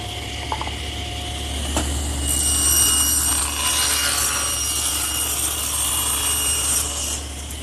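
Table saw blade cutting a tongue into a wood board for a blanket chest: a steady motor hum rises into a sustained rasping, whining cut for several seconds, then winds down, close and loud with no speech.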